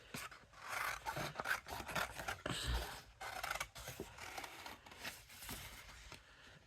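Scissors cut out a paper gingerbread man box template, snipping and rasping in an irregular, close run of strokes with faint rustling between.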